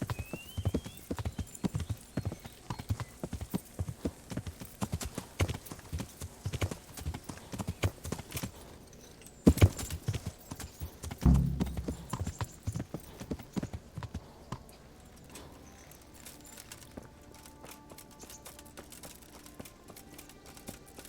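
Horse hooves clip-clopping in a steady rhythm of sharp, close knocks, growing sparse and fainter toward the end, with a few louder thumps midway and no speech.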